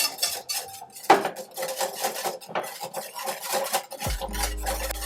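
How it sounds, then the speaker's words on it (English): A whisk clinks and scrapes rhythmically against a pot, stirring a maple syrup and sriracha dressing with salt and pepper over low heat, close and fairly quiet, ending with a low hum. "Low heat, we'll give it a whisk."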